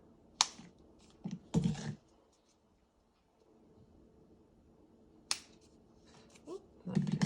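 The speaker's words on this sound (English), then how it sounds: "let's see if these scissors, we're gonna cut this" Dollar Tree scissors cutting along a line through a thick piece of material, a few sharp crisp snips and crunching cuts separated by quiet pauses, close and moderately loud.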